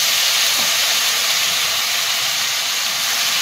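Spice paste hits a hot pan for vegetarian green jackfruit curry, giving a loud, steady sizzling hiss that stays unbroken for the whole stretch, with no voices.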